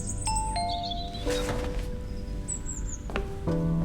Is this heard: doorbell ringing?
yes